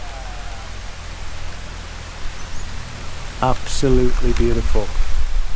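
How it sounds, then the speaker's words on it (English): Rain falls with a breeze in the Philippines, a steady broadband hiss of drops and wind that grows slightly louder, with someone speaking briefly over it near the end. "And it's so cool now, that breeze and the rain coming down."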